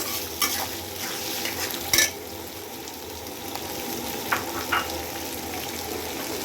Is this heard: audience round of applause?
no